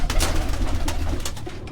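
Large pigeons coo in a loft in Quetta, several soft, throaty calls overlapping close by in a continuous murmur, with no one speaking.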